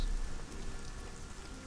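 Soft, steady patter of rain in Arcania Gothic 4, a faint, even hiss of drops with no other sounds over the short stretch.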